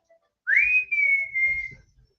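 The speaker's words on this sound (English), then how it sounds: "Should we whistle for her cat" A person whistles to call a cat: one clear note that swoops upward and then holds, gently drifting down, close and alone, with faint rustling underneath.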